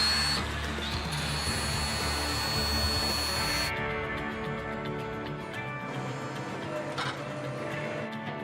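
Angle grinder cutting a weld bevel into a metal edge for a full-penetration joint at a mine site, a steady loud whine running continuously and then dropping to a lower, quieter hum partway through.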